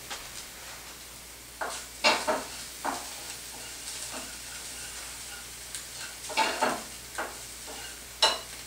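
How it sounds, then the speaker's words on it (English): Onions sautéing in a pan for a garden-and-farm quiche, with soft background sizzle broken by several distinct scraping stir strokes, some clustered in pairs, fairly close and moderately loud. "So I still have some onions sauteing off."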